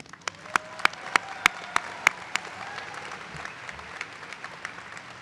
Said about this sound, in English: Please give yourselves that congratulatory applause.